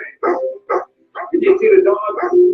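A dog in a Tomorrowland movie trailer gives several short barks and yips, fairly loud and close, with voices and whimpering sounds running alongside.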